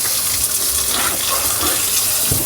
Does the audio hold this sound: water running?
yes